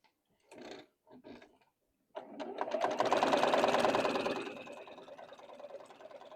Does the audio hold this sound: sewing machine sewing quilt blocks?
yes